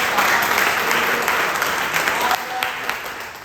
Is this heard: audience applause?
yes